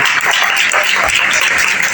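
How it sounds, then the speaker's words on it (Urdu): A church congregation claps during a sermon, a loud, fast rush of many hands with uneven swells, sustained throughout without any speech over it. "یہ تالیاں میرے لیے نہیں بلکہ میرے زندہ خدا کے لیے."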